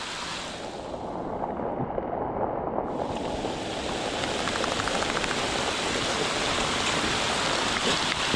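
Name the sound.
heavy rain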